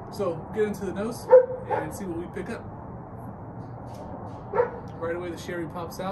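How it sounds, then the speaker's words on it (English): A dog barks and yips intermittently in the background of a room while someone talks steadily over it. "And I apologize for the dog in the background."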